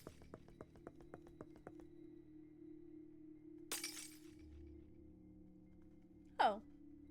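A glass-like shatter bursts out in the Pocket Mirror video game, following a quiet stretch of rhythmic taps and a softer crash, with a sharp bright break near the end standing out over faint background tones.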